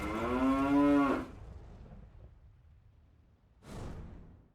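A cow on a farm lets out a long, loud, low moo near the microphone, followed by a quieter stretch of breathy noise and then a short rustling whoosh.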